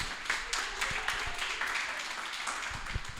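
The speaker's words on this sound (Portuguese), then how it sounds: "Uma salva de aplausos para o Fábio." Audience applause for a speaker at a communication-week event, steady, dense clapping from a room crowd with scattered sharper claps standing out, sustained throughout at moderate level.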